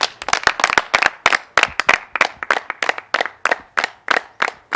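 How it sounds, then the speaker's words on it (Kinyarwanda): A church congregation claps in a brisk, fairly steady rhythm, many hands together, loud and near, with no talking over it. "Mumere Imana amashyi."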